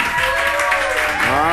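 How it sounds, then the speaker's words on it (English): A crowd applauds at a Madden 17 video game tournament held at the Microsoft Store flagship in New York City, a dense wash of clapping that holds steady throughout, with a voice talking over it. "You can hear the crowd here."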